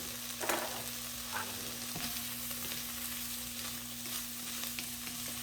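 Chili ingredients seasoned with onion and garlic powder fry in a pan, giving a steady close sizzle with a few faint clicks and a low constant hum underneath, no voices.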